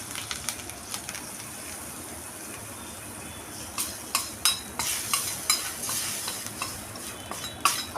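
Tempering of asafoetida and curry leaves in hot oil for a tomato, onion and garlic chutney: a soft, steady sizzle, with a spoon stirring and scraping the pan in sharp clinks that grow busier toward the end.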